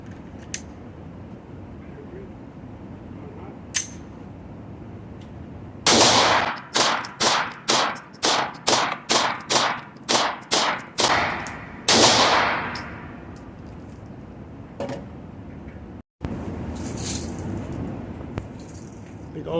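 A Sig P365 Micro pistol fires about a dozen rounds in a quick, fairly even string, each sharp crack loud and close, with metallic ringing and brief talk before and after.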